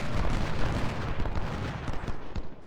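Massed musket volleys roll across a Civil War battlefield in Ultimate General: Civil War as a dense, loud crackle of overlapping shots with booming low rumble. The firing is sustained and distant, and no voices are heard.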